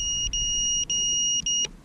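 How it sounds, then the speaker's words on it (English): Tovsto Falcon 210 racing drone sounding its low-battery alarm: a piercing high double-tone beep repeating in steady pulses, loud and close, alone. "it's still beeping, letting me know that my battery's critically low"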